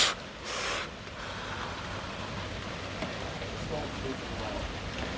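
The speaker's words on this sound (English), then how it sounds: "No, Max, the rain's still as bad as it was" Heavy rain pouring during a severe thunderstorm, a dense steady hiss of downpour heard outdoors, with a brief louder splash near the start and no talking.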